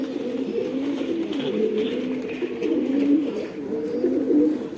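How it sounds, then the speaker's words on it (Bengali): Racing pigeons in a home loft coo steadily in low, rolling, overlapping calls, close and moderately loud, with no talking. "এখন আমি কবুতরগুলো দেখাই"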